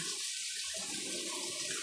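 A small waterfall with stalactites in a temple cave at Wat Mon Phaya Nak, Phu Kamyao, Phayao, Thailand, makes a steady, close rush and splash of falling water, alone with no talking.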